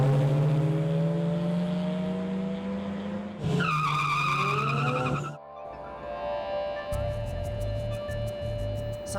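Illegal drag racing on Macapagal Boulevard in Pasay at night: loud roaring car engines with sustained revving, rising pitch and a sharp high burst of squealing tires, followed by further engine drone and idling.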